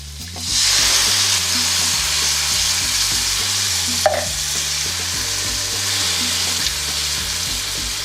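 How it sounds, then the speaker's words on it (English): Chopped tomatoes stirred in a hot frying pan for a paneer masala, a steady loud sizzle with a spatula scraping through the pan in a slow repeating rhythm, no talking. "Give that a good old stir."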